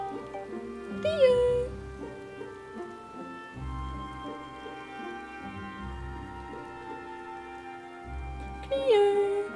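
A cat meows twice, clear and fairly close, the calls spaced several seconds apart over steady game music and background voices from a Final Fantasy XIV stream.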